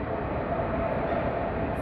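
A Mumbai local train gives a steady, continuous rumble and rolling roar with no distinct breaks, fairly loud and close throughout.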